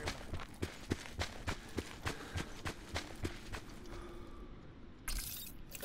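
Rapid, evenly spaced footsteps in the Call of Duty: Black Ops 4 video game, running in a steady rhythm at moderate distance before stopping, alone without talk.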